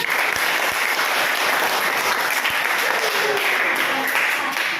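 Students in a classroom clap together in sustained, dense applause, steady and loud from start to finish, with a few sharper individual claps standing out near the front.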